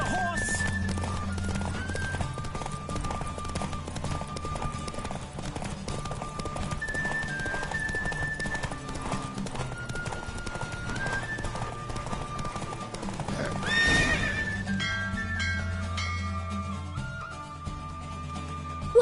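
Horse hooves clip-clop steadily through a galloping run in The Witcher 3, with an occasional whinny, set against continuous game music and ambience throughout.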